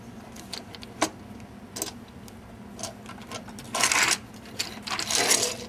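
Plastic parts of a Transformers Dark of the Moon Voyager Ironhide toy being folded and clipped together, a few sharp close clicks and small rattles, then bursts of handling noise, with no talk.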